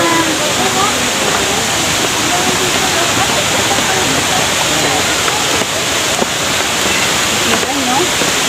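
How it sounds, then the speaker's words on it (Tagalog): Hinulugang Taktak waterfall roars in a loud, constant, broadband rush of falling water, close by and unbroken, with people's voices faintly mixed into the din. "Nandito na ho yung falls."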